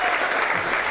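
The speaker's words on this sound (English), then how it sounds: "Let's give her a huge round of applause" A brief burst of dense crowd applause at a chamber of commerce gala awards event, steady and moderately loud throughout the short moment.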